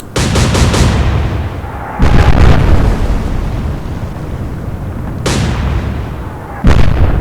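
Naval guns fire in Atlantic Fleet, a World War II sea battle game: four heavy, loud blasts spaced irregularly, each followed by a long rumbling roar.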